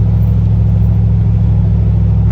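An old beater car's engine roars steadily on a cold start, a loud, constant low rumble held without clear revving changes, with no voices over it.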